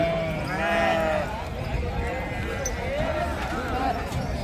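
Several sheep bleat in wavering calls at a sheep market in Gudur, India, one loud and close, others farther off, amid a busy crowd of voices and scattered thumps.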